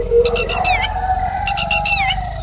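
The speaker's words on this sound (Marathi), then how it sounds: "अचानकच टिटव्या ओरडू लागल्या।" Lapwings call in a forest, two bursts of sharp, repeated, rising-and-falling piercing notes ringing out clearly over a low background rumble.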